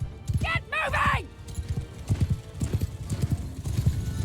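A horse whinnies loudly in Mount and Blade Bannerlord, then hooves clip-clop in a fast, steady rhythm as mounted troops move off together.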